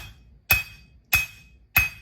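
Three sharp metallic hammer strikes on the horn of an anvil ring out at an even pace, each with a bright clink and brief ringing decay, close and loud with no talking.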